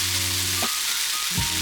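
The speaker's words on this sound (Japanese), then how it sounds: "今度はこの取ったフライパンの方に、ちょっとだけね水入れます。" A splash of water hits a hot frying pan that held sautéed mushrooms, bursting into a loud, close hiss that sputters and swells again.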